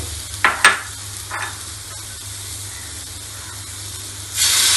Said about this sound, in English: This beetroot will go to the pan. Again we will saute.